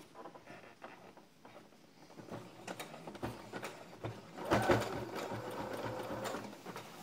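A sewing machine stitches the folded-in hem of a backless step-cut frock, its needle rattling in short runs that build to a louder, steady stretch near the end.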